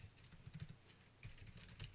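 Soft, quick keystrokes on a computer keyboard while entering LaTeX matrix code, coming in short irregular bursts with brief pauses, quiet and close.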